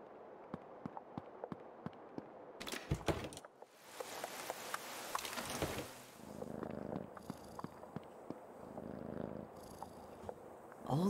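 Purring cat in the horror adventure game Creepy Tale 2, a soft steady rumble running under scattered ticking game effects, with brief louder bursts of ambient noise partway through and no voices.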